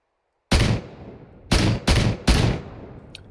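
A WWII firearm in the game ArmA 3 with the IFA3 Lite mod fires four sharp, loud shots, one alone, then three in quicker succession, each with a short decaying echo against silence.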